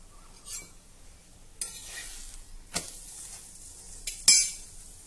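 A corn paratha roasts on a pan with coriander sprinkled over the top: a soft, low sizzle runs throughout, broken by a few sharp utensil clinks and scrapes, with no talking.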